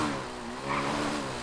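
A dirt trail motorcycle engine revving in GTA 5 roleplay, a brief buzzing rise in pitch, moderately close and alone.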